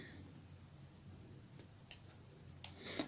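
Scissors cut through a length of grey macrame cord, a few sharp close snips spaced over a few seconds against a quiet background, with no voices.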